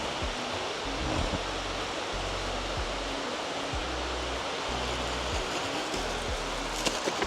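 Steady broadband rush of falling water from Thararak Waterfall in Phop Phra, Tak, Thailand, loud and continuous throughout, with no voices.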